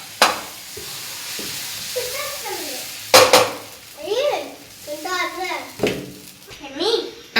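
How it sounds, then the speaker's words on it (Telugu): Dosas cook on a pan with a soft sizzle, scraping and clinks of utensils, while an adult and someone talk over the kitchen sounds. "అందుకని దోశలు అయితే వేస్తున్నాను"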